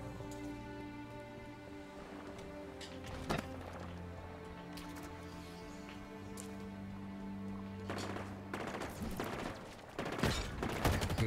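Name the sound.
gunfire in video game Halo Infinite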